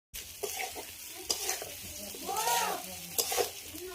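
Potatoes stirred and frying in a pan, a steady close sizzle with scraping stir strokes and clinks recurring through the clip.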